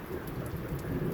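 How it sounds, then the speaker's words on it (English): Steady rain falling on dry farmland, a continuous dense wash of drops with a low rumble underneath, constant and fairly close with no voices. "this is some really good Lord's rain, and we're so thankful"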